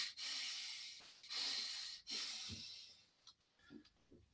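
Heavy asthmatic breathing of a man close to the microphone, slow hissing inhales and exhales with a few soft snorts and catches, faint and airy.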